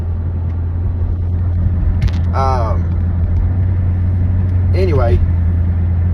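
Car driving past Bristol Motor Speedway, heard from inside as a steady, loud low engine and road rumble, with someone talking briefly over it.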